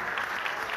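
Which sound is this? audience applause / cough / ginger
audience applause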